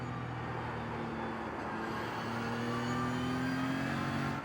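A BMW M4 GT3 race car in a racing game on the Nordschleife, its engine droning steadily with shifting pitch as it brakes and drops gears, a continuous mid-level tone with no talking.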